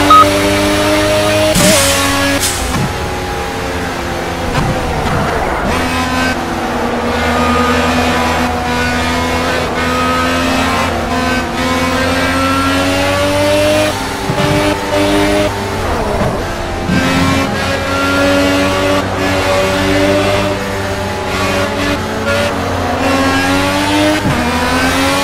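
Race car engines on the final lap in the racing game Project CARS, loud, high-revving whines climbing and dropping through gear changes, with brief tire squeal and other cars close by, no talking.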